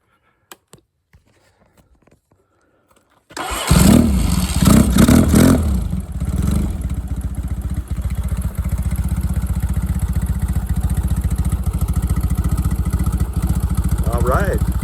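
A Yamaha XS650 motorcycle engine cranks briefly, catches and fires into a loud, steady, close idle with a throaty pulsing rumble that holds to the end, after a few quiet clicks at the start.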